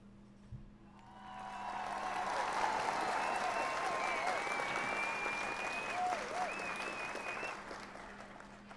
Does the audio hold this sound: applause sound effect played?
yes